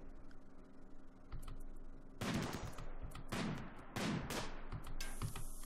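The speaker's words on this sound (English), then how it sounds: "Where's that mortar going?" In the RimWorld video game, a battle rages with sharp gunshots and mortar blasts: several loud, close bursts stand out over a constant din of combat, with lighter ticking shots in between.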